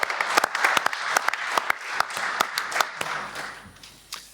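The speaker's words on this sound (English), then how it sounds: "Let's give a big hand of applause to VR Theo, please." An audience at a start-up and social business forum applauds warmly, a steady burst of many hands clapping together, with a few louder claps standing out before fading near the end.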